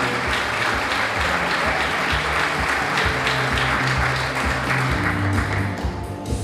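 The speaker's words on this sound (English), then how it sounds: "I ask that you give a great big warm applause to all of our 3 semifinalists" An audience gives warm, sustained applause for teacher semifinalists at a Teacher of the Year event, dense clapping over low music that tapers off at the end.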